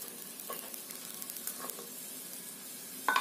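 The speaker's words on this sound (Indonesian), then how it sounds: "tumis 7 helai batang daun bawang. Tumis sampai mengeluarkan aroma harum dan sampai kecoklatan" Spring onion stalks sauté in a hot pan, with a steady close sizzle and light stirring scrapes throughout, ending in a louder clatter.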